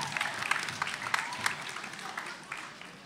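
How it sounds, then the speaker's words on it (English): A school audience applauds at a grade 11/12 spoken word competition, clapping fairly quiet and moderately dense with a few sharper claps standing out, gradually thinning over a few seconds. "Come on, give them a big round of applause."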